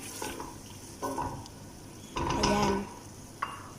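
Tomatoes for butter chicken stirred in a pan, with scraping spoon strokes against the metal and a soft sizzle underneath, coming in a few separate bursts with brief pauses between them.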